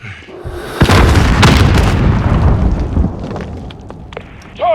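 An RPG rocket exploding in the shooter Call of Duty Modern Warfare: a heavy close-range blast with a long rumbling, crackling tail, then scattered debris clatter and faint shouts.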